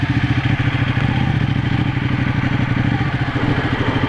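Ducati 1199 Panigale S motorcycle engine running steadily while riding, a loud continuous rumble with a dense rapid pulsing throb throughout, no voices.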